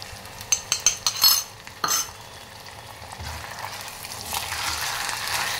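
Onion ginger garlic paste frying in a pan for masala okra curry, opening with a few sharp spoon clinks and stirring scrapes, then settling into a steady close sizzle.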